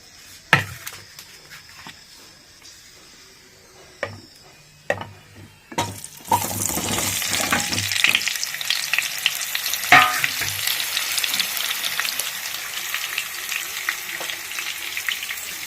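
Salted, turmeric-coated potatoes dropped into hot oil for aloo dum: a few sharp clunks and taps first, then a loud, sustained crackling sizzle that keeps bubbling steadily at close range.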